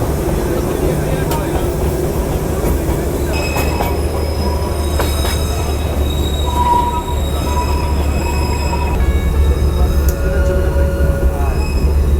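Darjeeling toy train running on its rails from NJP to Darjeeling, a loud steady rumble with squealing wheels and high metallic screeches throughout, heard from on board with speech over it.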